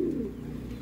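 A racing pigeon coos nearby in a short, low, throaty warble that swells at the start and then tapers off.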